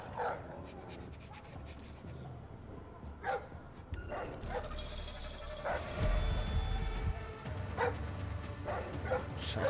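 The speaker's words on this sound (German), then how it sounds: "Was ist das denn für ein Spezialhund?" A dog in the stealth video game Splinter Cell Blacklist gives repeated barks, yips and whimpers in irregular bursts over in-game ambience and rumbling effects.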